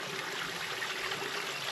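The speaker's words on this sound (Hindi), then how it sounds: "यहाँ पानी निकल रहा है और ये ऊपर से आ रहा है पहाड़ से" Mountain spring water pours into a small temple pond in the Garhwal Himalayas, a steady, close rush and trickle that runs unbroken and fills the space, with no voices.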